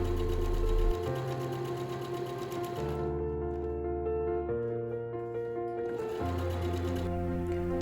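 A sewing machine stitches garment front panels together, running in long steady bursts with a brief pause and change of speed partway through, a close, continuous mechanical whir without any voices.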